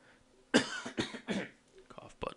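A single cough followed by a few more short coughs and throat noises, close and fairly loud, with breathy bursts separated by brief pauses.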